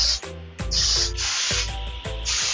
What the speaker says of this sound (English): now that we've used our holding spray